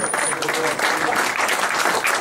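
Spectators at a Czech amateur football match applaud a substituted player leaving the pitch, a short burst of mid-distance clapping with crowd murmur underneath.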